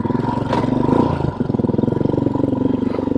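A Royal Enfield Himalayan motorcycle with an aftermarket AEW exhaust and delete pipe rumbles at a loud, steady idle with a deep throaty exhaust pulse throughout, with no talking.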